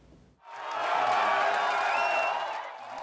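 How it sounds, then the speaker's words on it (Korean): German Green Party members burst into cheering at an election gathering, a crowd roar of whoops and shouts that swells suddenly and holds loud and steady. "독일 녹색당 관계자들이 환호를 지르며 기뻐합니다"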